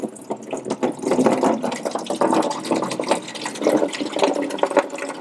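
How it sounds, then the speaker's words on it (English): Engine coolant drains from the radiator drain of a Toyota hybrid, a close, continuous splashing and gurgling stream of liquid pouring into a container, fairly loud and unbroken, with no voices. "It's just gonna keep draining like that."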